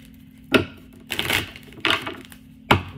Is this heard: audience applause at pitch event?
no